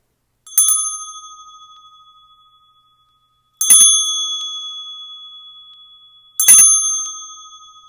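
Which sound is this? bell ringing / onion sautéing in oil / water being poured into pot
bell ringing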